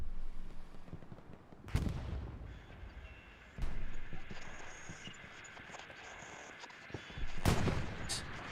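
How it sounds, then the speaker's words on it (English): A tank fires its cannon in an online multiplayer war game, with three sharp booming blasts spaced a few seconds apart over a steady mechanical drone and no speech. "The tank's shooting at you."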